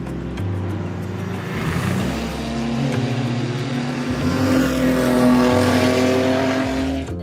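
A vintage 8-litre Bentley racing car running on synthetic fuel roars past at Goodwood, its deep engine rumble loud and continuous, swelling steadily with no voices over it.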